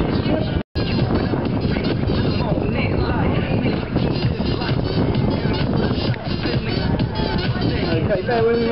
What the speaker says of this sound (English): Oh my word, look at that wind.